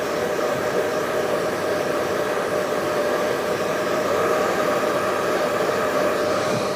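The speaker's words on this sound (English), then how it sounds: "now we'll take a blow dryer and we're just going to come through with a blow dryer" A steady, continuous blow dryer roars close by, drying hair, a broad even hiss that holds at a constant level throughout with no talking.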